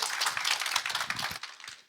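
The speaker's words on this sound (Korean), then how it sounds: "박수, 다시 박수." A church congregation applauds a pastor, a dense, close patter of many hands that thins out and fades over about two seconds.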